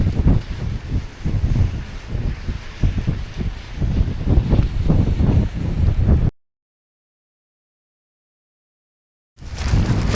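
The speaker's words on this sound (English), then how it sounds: "It's blowing like 20 knots, southwest at Tsawwassen Ferry Terminal." Strong southwest wind of about 20 knots at the Tsawwassen Ferry Terminal buffets the microphone with loud, gusty roaring and rumbling. The noise cuts to silence partway through, then returns.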